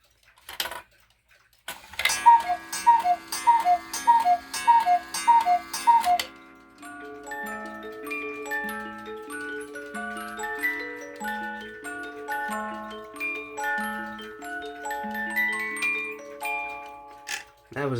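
A Schneider clock with a musical movement plays a melody on bright chime notes, opening with a few ticking, bell-like strikes before the steady tune unfolds close by, with no voices over it.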